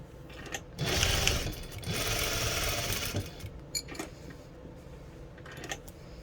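A sewing machine runs in short, uneven bursts while stitching fabric catnip kicker cat toys, moderately loud and close, starting and stopping several times.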